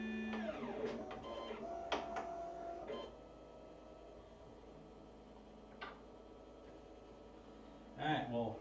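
A 3D printer at work on an Ultimaker bed, laying down a skirt, its stepper motors whining in shifting tones with a few soft clicks and knocks, fairly close amid a steady low background hum.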